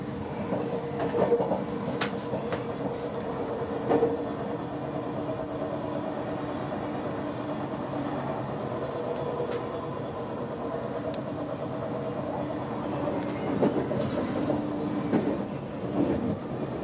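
A TGV Lyria Duplex high-speed train running on rails between Paris and Zurich gives a steady, loud rolling rumble throughout, with faint rhythmic clatter and occasional bumps.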